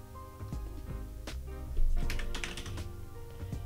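Close, crisp keystrokes on a computer keyboard come in a quick, irregular run of clicks, typed into a file explorer search field.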